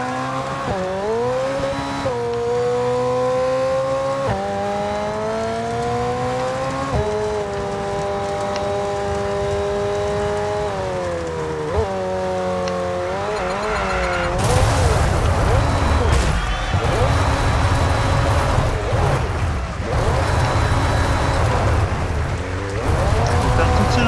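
F1 22 race car spinning and skidding at the Australian Grand Prix, its engine note swooping up and down, then a burst of broadband tire scrub and skid noise, loud and close with no talk over it.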